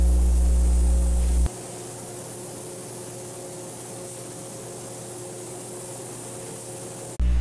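Spray gun hissing steadily as yellow enamel goes onto primed, block-sanded Land Cruiser body parts in a shop, a continuous broadband spray running alone for most of the stretch, with a compressor-like hum at the edges.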